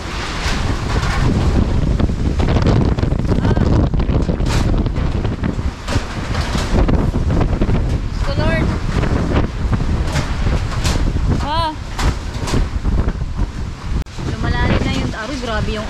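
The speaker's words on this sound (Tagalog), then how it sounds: "Nakakatakot yung alon." Loud, churning surf and strong waves roar continuously alongside heavy wind noise on the mic, with a few brief spoken words and shouts mixed in.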